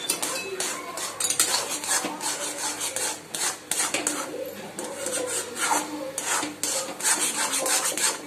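A utensil scrapes and rubs through a warm rava custard burfi mixture of semolina and custard in a pan, a continuous gritty stirring with repeated strokes, close and steady.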